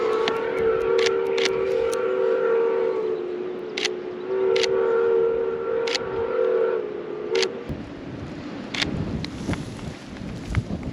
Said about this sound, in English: just heard the whistle, so we're on